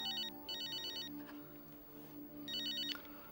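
A telephone ringing in an Indonesian TV drama, an electronic trilling ring in two bursts separated by a pause, moderately loud over a low room hum, with no talk.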